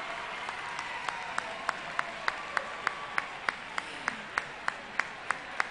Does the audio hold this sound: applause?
yes